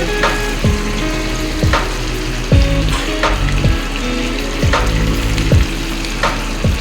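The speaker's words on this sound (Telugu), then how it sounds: "చికెన్ వేయగానే బాగా చికెన్ ఫ్రై అవుతుంది" Chicken pieces for pakoda deep frying in hot oil, a loud continuous bubbling sizzle with sharp crackles and spatters recurring every second or so, close up and without voices.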